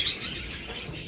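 Caged pet birds for sale chirp in quick, high tweets over a dense, busy background, with a short burst of close calls.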